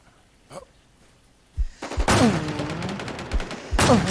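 Gunfire in the shooter game The Infestation: a lone early shot, then a dense burst of rapid automatic fire with short pauses and a final burst, loud and close.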